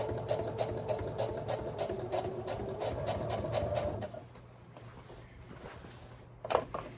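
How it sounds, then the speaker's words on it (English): A sewing machine understitching across a garment collar, running in a fast steady stitching rhythm for about four seconds before it stops, followed by quiet handling and a brief clunk near the end. "I'm going to understitch all the way across."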